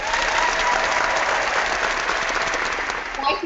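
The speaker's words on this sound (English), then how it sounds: "Do we get an applause?" A live cooking show audience breaks into sustained applause, steady clapping that carries on for a few seconds.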